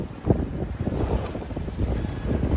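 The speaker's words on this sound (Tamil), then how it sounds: "காற்று சரியான காற்று" Strong wind blowing outdoors at a temple, a loud, continuous roar with heavy gusts buffeting the microphone in uneven surges, with no talking.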